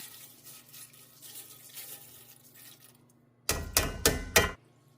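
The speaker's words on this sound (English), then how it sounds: "And now I'm going to shake in my rice." One and a quarter cups of pre-rinsed, drained long grain rice is shaken into a pan for a one-pan French onion chicken and rice casserole. After a quiet stretch come four quick, loud, close rattling bursts.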